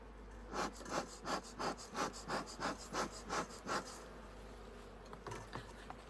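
Honey bees around an open hive during an inspection, heard as a low hum with a run of rhythmic, pulsing buzzy surges that fade toward the end.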